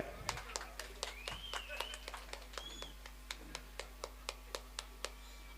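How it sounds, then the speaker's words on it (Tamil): Audience clapping at a statue unveiling in Velakurichi, heard as sharp individual hand claps in a slow, regular rhythm that thins out over a few seconds, with a bird chirping and faint voices in the background. "கைதட்டு கொடுங்க."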